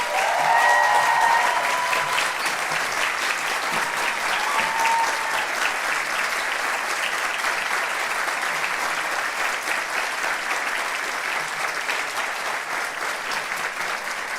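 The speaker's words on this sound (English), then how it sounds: "They deserve equally a big round of applause." Steady audience applause at a graduation ceremony, a dense even clapping that holds at moderate loudness and eases slightly toward the end.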